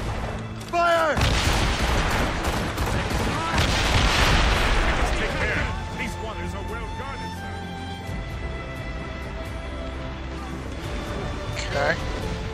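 Naval cannons booming from a sailing warship in the Assassin's Creed Rogue video game, a heavy opening blast followed by rolling explosive rumble and sea-battle noise, with a player's voice shouting over it.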